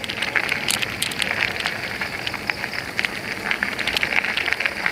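Rain falling steadily during a bike ride, a dense continuous patter of drops with scattered sharper ticks, close and fairly loud.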